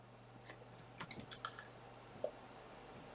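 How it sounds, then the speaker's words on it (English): Quiet, close computer keyboard typing: a brief flurry of soft key clicks, then a single sharper keystroke, over a faint steady hum with no talking. "Apologies, I need to hit enter. Enter on the keyboard."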